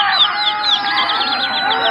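Dense flock of racing pigeons from the opposing side in flight at a kabootar bazi competition in Layyah, giving a continuous busy wash of fluttering and chirpy calls, loud and steady throughout.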